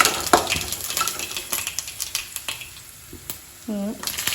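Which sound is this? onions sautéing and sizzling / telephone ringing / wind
onions sautéing and sizzling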